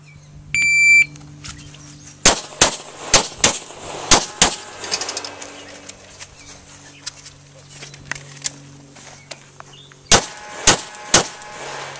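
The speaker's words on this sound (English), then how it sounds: "that was some good shooting" Gunshots at shooting practice: a short electronic beep, then a series of sharp, loud reports fired in a quick string, a pause, and another quick group of shots, each ringing out with a brief echo.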